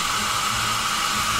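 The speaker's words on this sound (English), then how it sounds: "I'm going to use the blow dryer" A blow dryer runs steadily at close range, drying Halloween face paint: a continuous airy rushing hiss with no breaks, loud and even throughout.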